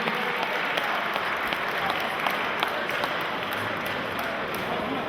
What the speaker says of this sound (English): a big round of applause for our two fighters.